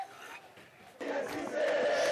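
A crowd of pro-Morsi demonstrators clashing with police on a Cairo street: a distant murmur of voices that swells suddenly into louder shouting and chanting.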